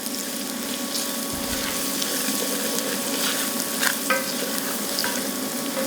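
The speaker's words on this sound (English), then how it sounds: "just gonna give these a quick little spin around the old pan" Thai chilies stir-fry in a hot pan with a loud, continuous close sizzle, steady hiss and occasional scraping and popping as they are tossed.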